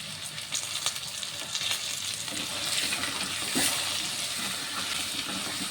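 Potatoes fry in oil with salt and turmeric added, a steady broadband sizzle running throughout with occasional stirring scrapes, close and fairly loud, no talking.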